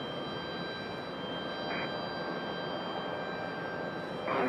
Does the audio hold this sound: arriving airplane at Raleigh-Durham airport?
yes